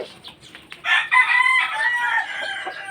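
A fighting rooster crows loudly and close by, one long rising call at a gamefowl breeding yard with other chickens faintly around it.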